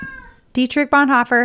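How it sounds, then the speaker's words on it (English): A pet cat gives a short, close meow indoors, and a person then starts speaking right after it. "I'm sorry about my cat."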